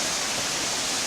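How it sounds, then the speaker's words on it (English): Rushing water from a discharge pours into waterfall rapids beside a power station, a steady broadband roar that fills the whole moment at close range with no break. "Here's a nice little discharge, and essentially there's a whole waterfall / rapids right on the other side"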